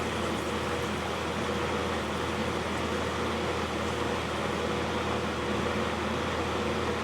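A household dehumidifier that isn't working properly, its compressor cycling on and off, runs with a steady broadband whir and hum, like a fan, at even loudness throughout. There is no talk.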